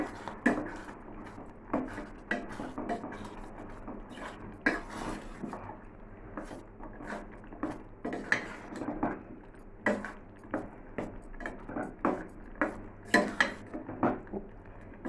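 A spoon stirs raisins, cashews and coconut pieces through sweet chakrapongali in a pot, producing a run of sharp, close clinks and scrapes against the vessel at an uneven rhythm, with no talking.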